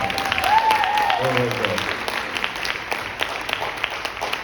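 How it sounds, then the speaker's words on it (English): Audience applause at a high school band spring concert, broad and steady from a crowd for a bass drum solo, with a brief voice over the clapping. "he deserves a round of applause"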